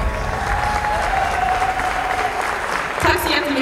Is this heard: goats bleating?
no